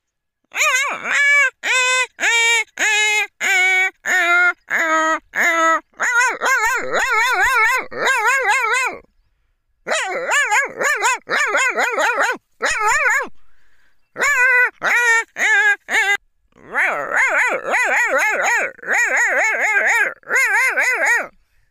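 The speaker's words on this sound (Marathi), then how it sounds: "बापरे किती कुत्रे आहेत" A large pack of dogs barks, yips and whimpers in rapid overlapping bursts, loud and close, with short pauses between clusters of high-pitched cries.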